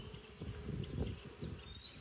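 Honey bees buzzing near an open hive during a varroa mite inspection, a steady low drone that swells and fades as individual bees pass close, with faint rustling of frames.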